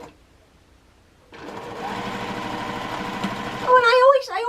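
A sewing machine runs steadily at close range while backstitching binding on a quilt, a fast, even mechanical whirr lasting a few seconds, and a voice speaks over its final moments.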